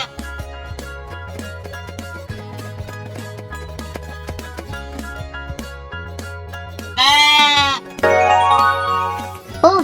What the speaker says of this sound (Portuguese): Ovelha